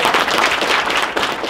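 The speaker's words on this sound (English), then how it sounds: "All right, give a round of applause." An audience claps in a dense, steady round of applause that holds at an even loudness from start to finish, with no voices standing out.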